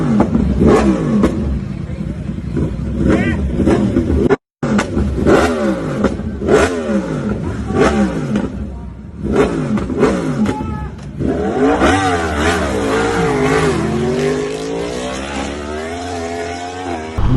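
Big motorcycles racing on a licensed track, their engines revving loud and close with rising and falling whines and sweeping pitch shifts, one brief dropout, and a sustained high rev building toward the end.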